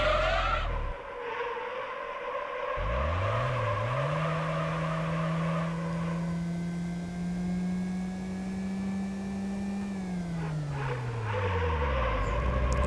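A hybrid race car engine in the video game Gran Turismo 4 Prologue rises in pitch and then holds a long steady whine while accelerating. It winds back down near the end, loud and close, with no talking.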